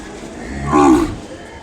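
A single low, drawn-out cow moo rises in the middle of the clip over a quiet outdoor background at the Kodada cattle market in India.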